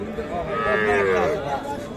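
A calf at Aftabganj cattle market gives one drawn-out, wavering moo close by, over a low murmur of the busy market.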